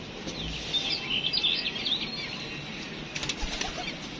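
A quick flurry of wing flaps as a released female pigeon takes off nearby, with faint chirps in the background and a second brief flutter at the end.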